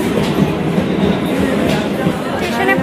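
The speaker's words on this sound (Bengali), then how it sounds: "স্টেশনে পৌঁছলাম, আর তার মধ্যে ট্রেনটা ছেড়ে দিল" Train at a railway station, a steady rumbling rail noise with faint clickety-clack running throughout, loud and close, with crowd murmur and voices in the background.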